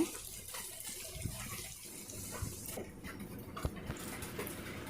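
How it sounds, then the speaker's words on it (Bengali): A small bowl of water is poured into a pan of thick fried chicken curry, giving a quiet, steady splashing and trickling with a few faint clicks. "জল দিয়ে দিব।"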